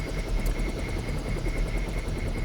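A hovering spy drone in the video game Deus Ex gives off a steady, loud mechanical whir with a rapid, even pulsing flutter, constant and close throughout.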